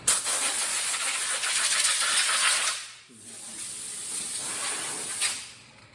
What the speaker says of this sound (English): I also got up my air compressor, fired that up so we can blow some of the air off of this thing.